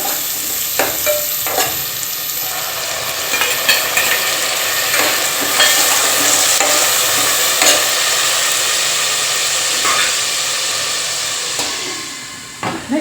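Vegetables frying in a pan, a loud, steady sizzle with intermittent clicks and scrapes of stirring, fading slightly at the end.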